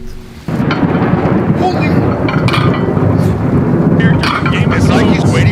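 Heavy rain and rolling thunder fill an outdoor workout space during a storm, a loud continuous roar with rumbling swells, and a man exclaims briefly over it.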